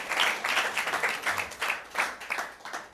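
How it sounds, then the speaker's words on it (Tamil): An audience at a Bible sermon claps in a brief run of uneven, fairly faint bursts. "கைத்தட்ட மாட்டேங்கிறீங்களே?"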